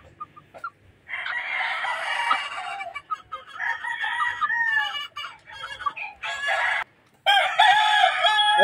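A gamefowl rooster crows repeatedly at close range, loud and clear, with short pauses between the calls.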